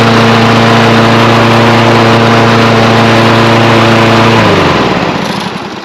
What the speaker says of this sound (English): that's going to finish up our Kohler XT675 that's mounted on the Toro recycler mower